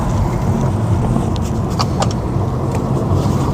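An Audi S3 with a four-pipe exhaust, heard from inside while driving: a steady low engine and exhaust rumble mixed with road noise, continuous and even throughout, with no talking.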